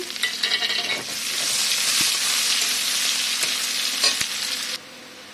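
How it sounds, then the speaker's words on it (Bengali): Onions sizzle in hot oil in a pan just used for frying fish, a strong hiss with scattered stirring clinks that cuts off abruptly near the end. "তো এখানে আমি পেঁয়াজ দিয়ে দেব, এই যে পেঁয়াজ দিয়ে দিচ্ছি"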